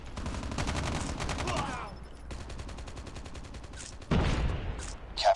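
Assault rifle gunfire in the Call of Duty Mobile game, the BK57, sounding as bursts of rapid shots and short taps with a louder volley near the end, mixed with game sound effects.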